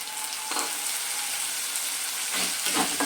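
Ground tomato paste hits hot oil with turmeric and chili powder for a raw banana curry, sizzling loudly and steadily, with a couple of scraping stirs near the middle and end.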